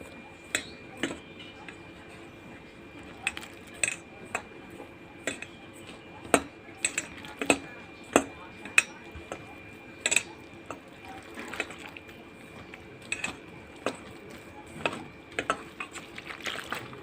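Gram flour batter with turmeric, salt, chili powder and a little sugar being mixed in a bowl produces quiet, irregular clinks and taps of a utensil against the container over a faint background.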